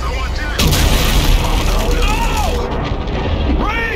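A deep, loud explosion and boom of weapons fire in the sci-fi shooter Call of Duty: Infinite Warfare, set at Olympus Mons, bursts in after a brief lull and rumbles on as a sustained roar with voices faintly underneath.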